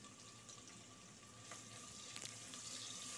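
Chopped onion sizzles in hot oil with cloves and cardamom for a pressure-cooker beef curry, a steady soft frying hiss with faint scraping strokes as it is stirred, no talk.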